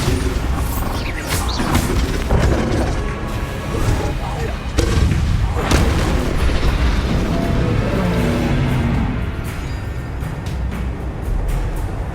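Spell explosions from Confringo and Bombarda cast in the Hogwarts Legacy video game, a dense run of booming blasts and crackling impacts layered with battle noise and a shouted voice, loud and continuous throughout.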